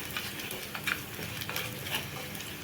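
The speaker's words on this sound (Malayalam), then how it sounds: "നല്ലോണം ഇളക്കണം ഗൈസ് അല്ലെങ്കിൽ കരിഞ്ഞു പോവും" Tamarind curry (pulichar) is stirred in a pot, with soft, irregular scraping strokes and a faint sizzle underneath, close and fairly quiet, with no talk.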